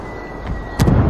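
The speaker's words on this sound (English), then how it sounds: "He's attacking me with this artillery." Artillery fire in the tactical shooter Ghost Recon Wildlands, heard as a single heavy, booming thud about three-quarters of the way through, rising out of low background rumble and game ambience.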